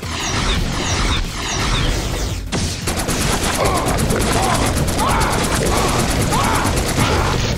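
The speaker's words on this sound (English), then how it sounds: "so you saw the fusion rifle. It's a fast, fast uh, plasma rifle." Rapid plasma fusion rifle fire in the shooter game Choke Point, a fast continuous stream of shots running loud and steady across the clip after a brief burst of other game effects.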